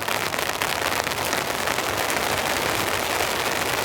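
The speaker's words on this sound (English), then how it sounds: "Got some nice rain falling." Steady rain falls outside a wooden shack at an overnight camp, a dense even hiss of drops that stays constant throughout with no voices.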